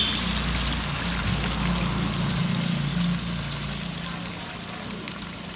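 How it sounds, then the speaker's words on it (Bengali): Water pours into a pot of braised broiler chicken curry, a steady close trickle and splash over a low stove rumble that eases off toward the end, with no voices. "ওই পরিমাণ মতো পানি দিয়ে দিলাম।"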